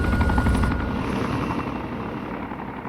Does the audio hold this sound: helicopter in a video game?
yes